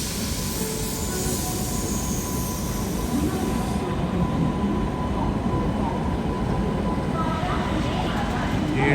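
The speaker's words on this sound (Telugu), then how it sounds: "వ్యాగ్ 9 లోకోమోటివ్ అయితే పుల్ చేసుకుంటూ వస్తుంది." A WAG-9 electric locomotive pulling a Konkan Railway train into a station platform in India, a steady rolling rumble of wheels and carriages nearby, with people talking.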